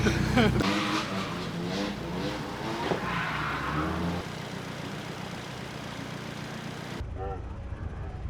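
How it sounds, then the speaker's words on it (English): A car engine revs loudly as the vehicle accelerates nearby, its pitch rising and falling, then settling into a steadier, quieter drone. "Your car sounds very good"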